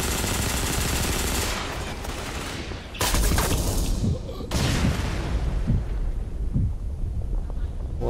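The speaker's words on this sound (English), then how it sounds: "It's a gunfight." Dense, continuous gunfire from a shooter video game, with sustained automatic bursts and heavy blasts that sharpen into loud, booming volleys partway through, while players talk over the fighting.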